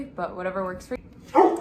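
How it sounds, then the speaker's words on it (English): A dog barks a few times in the background, the barks loud and close between bursts of a person speaking. "Sorry for my dog barking in the background."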